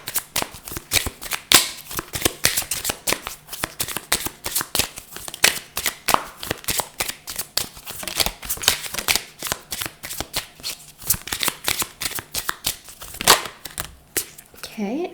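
Message cards being shuffled by hand, a long run of rapid riffling and flicking bursts, close and fairly loud, with a voice speaking intermittently.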